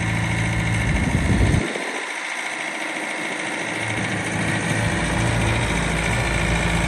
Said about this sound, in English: It's a 2016 Bobcat S570 skid steer.